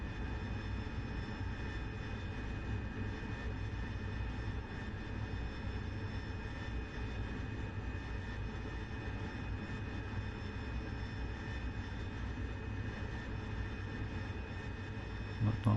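Steady, loud roar of an AV-8B Harrier jet engine during a simulated ship landing approach in DCS, a continuous sustained whine and rumble with no speech over it.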